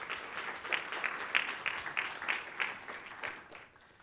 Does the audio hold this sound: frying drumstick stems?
no